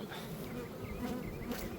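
A honeybee buzzes close against a beekeeper's protective mask during a hive check, giving a steady, near, wavering drone for under two seconds.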